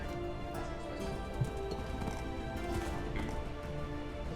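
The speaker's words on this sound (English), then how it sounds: "there's two people coming on horses." Horses' hooves clip-clop steadily in Minecraft as two riders approach on horseback, a soft, even patter over a faint continuous background with no talking.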